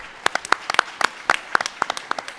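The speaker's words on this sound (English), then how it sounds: "Have one more round of applause for our man of the hour, Dante James." Sparse, scattered handclaps from a small audience after a panel discussion, individual sharp claps spaced irregularly rather than a full ovation, fairly quiet.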